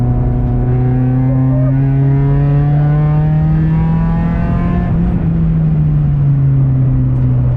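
A ChampCar endurance race car's engine drones loudly and steadily from on board, rising in pitch as it accelerates out of turns 12 and 13 at CMP, with a brief dip and recovery as the gears shift.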